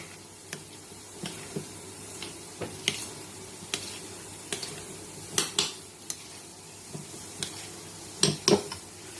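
Chopped tomato, red onion and chili are mixed in a bowl: a series of separate wet clicks and scrapes at an uneven pace, some in quick pairs, over a quiet background with no talk.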